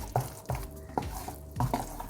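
A spoon scrapes and taps against a bowl stirring melted chocolate in a repeated rhythm, about five soft strokes, close by and quiet.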